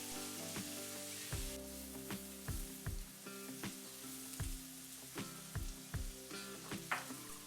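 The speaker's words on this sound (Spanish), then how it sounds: "Mezclamos todo muy bien y vamos agregando las espinacas cortadas poco a poco" Diced onion, potato and eggplant with turmeric, salt and chopped spinach sizzle in a pan. Regular scraping stir strokes knock over a continuous close frying hiss, and no one speaks.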